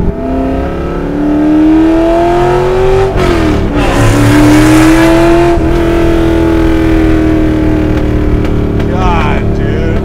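A Ford Shelby GT350 engine revs hard and close, its pitch climbing in surges, while people talk excitedly over the roar.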